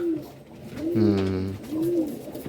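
Pigeons coo nearby in soft, throaty, rolling calls, with one fuller burst of cooing in the middle and quieter coos before and after.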